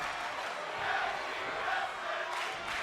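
A wrestling arena crowd cheers and roars steadily during a tag team match, a dense, continuous wash of voices with slight swells.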